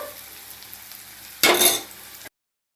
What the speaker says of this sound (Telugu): ఉల్లిపాయ ముక్కలు పచ్చిమిర్చి అల్లం ముక్కలు అన్నీ వేగాయండి